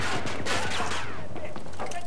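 Rapid gunfire rattles in a Battlefield 2042 Domination match on the Manifest map, a dense burst of loud shots under a low rumble, with a voice talking over it.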